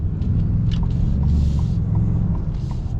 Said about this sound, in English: I like the little turbo noise. And it has a little whoosh to it.